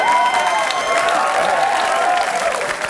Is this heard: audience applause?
yes